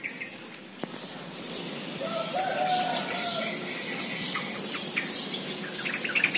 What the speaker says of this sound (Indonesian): Ada yang datang, gerombolan burung terucuknya itu di atas sana.